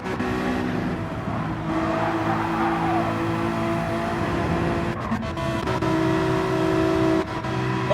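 Loud, steady engine roar of a McLaren race car in Gran Turismo 7 at the Nürburgring, with sustained high revs, brief gear shifts and the drone of other cars around it.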